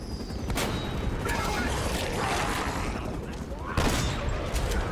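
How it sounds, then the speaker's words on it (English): Shotgun blasts in the Uncharted video game, a dense, loud barrage of gunfire and booms filling the clip, with a sharper burst near the end. "Oh, stupid shotgun."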